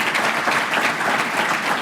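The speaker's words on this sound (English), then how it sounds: "Thanks for applauding so I could take a drink." An audience at the 2019 Roseville, California State of the City address applauds steadily: a full, even patter of many hands, sustained and moderately loud, with no speech.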